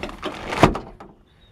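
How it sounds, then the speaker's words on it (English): A Dodge Ram pickup door slams shut once with a solid, close thud, preceded by brief handling rattles, with a lighter knock following soon after. "Let me shut the door and I'll show you."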